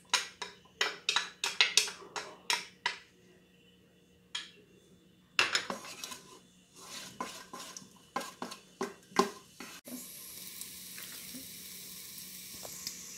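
Onions tumble into an oiled multicooker pot with a series of sharp clinks and clatters from a utensil, followed by a soft, steady sizzle building near the end, close by and without speech.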